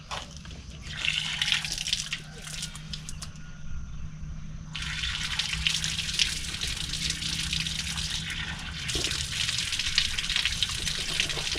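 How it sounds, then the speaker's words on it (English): Water gushes steadily from a tap while someone washes their face, with a full, continuous splash near the mic and a brief lull in the middle before the flow picks back up. "I believe in washing my eyes first."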